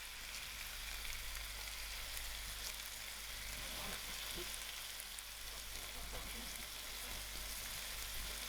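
Chicken breast frying in a pan with extra soy garlic marinade, giving a steady, dense sizzle that holds evenly throughout without pause.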